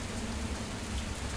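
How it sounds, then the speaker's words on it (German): Rain falls in the bus-driving game Fernbus Simulator as a dense, steady hiss that fills the whole moment, loud and unbroken, with no voices over it. "Das ist Regen."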